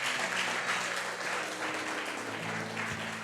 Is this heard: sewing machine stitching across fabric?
no